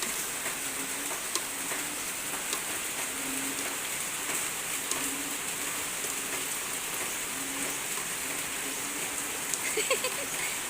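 Heavy rain pours down in a steady, dense hiss, with scattered drops tapping nearby surfaces throughout.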